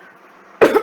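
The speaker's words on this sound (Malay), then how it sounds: "Ada batuk pula." A single short, sharp cough close up after a moment of quiet room hum.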